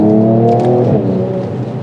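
A Mercedes-AMG E53 Coupe with a Stage 2 tune accelerates on the road, its engine a loud, close, steady drone that rises briefly and then settles as the car pulls, with no talk over it.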